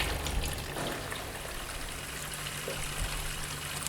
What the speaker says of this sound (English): the machine is filling full of water